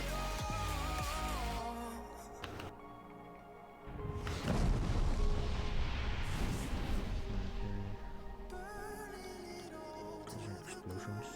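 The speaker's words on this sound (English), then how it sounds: "Explosions." Explosions in World of Warcraft burst out as deep booms amid game music and effects, loud and dense for several seconds before easing back into the soundtrack.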